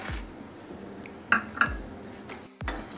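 A utensil clinks and scrapes in a pan as halved peanuts are slowly stirred in hot oil for a Gujarati dabeli, with a few sharp metallic taps over a soft background.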